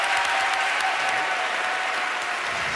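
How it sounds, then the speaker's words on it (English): A studio audience applauds the Cantabile choir at a senior school choir competition, a dense, steady clapping that fills the whole stretch at close range with no voices over it. "a huge round of applause for Cantabile"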